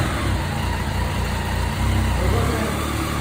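A motorcycle engine with a quiet stock exhaust runs at a low, steady idle, soft and muffled throughout with only slight fluctuations and no other sounds on top.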